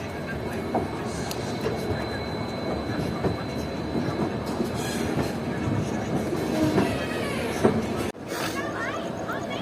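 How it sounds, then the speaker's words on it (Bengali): An Indian intercity express train slowly departs a crowded station, rumbling and clattering at a steady, unhurried pace, with wheel clicks and crowd chatter around it. "ধীরে ধীরে বেরোচ্ছে আমাদের ট্রেন।"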